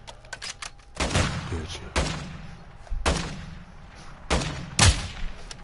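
Gunshots in a PS4 shooter game ring out as about five loud, sharp single reports at roughly one-second intervals over a low background rumble.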